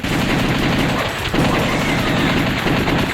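Rapid continuous gunfire in the House of the Dead arcade shooter, loud dense bursts of shots filling the whole stretch without pause, close and harsh with no gaps.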